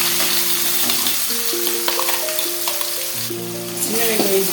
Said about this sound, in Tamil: சின்ன வெங்காயம் சேர்த்துட்டோம். இது பச்சை வாசம் போகிற வரைக்கும் வணக்கணும்.